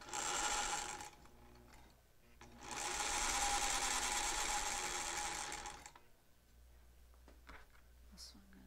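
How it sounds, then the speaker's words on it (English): Vintage all-metal sewing machine stitching fabric, a soft, smooth whirring hum in two runs of a second and about three seconds, separated and followed by quiet pauses with faint handling sounds and a voice speaking. "This machine is just so fun. I can't believe how smooth it's moving. It's all metal."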